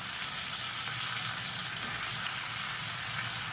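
Turkey berries, drumstick and brinjal sautéing in a pan for sambar, a steady loud sizzle and crackle of frying that stays even and unbroken throughout.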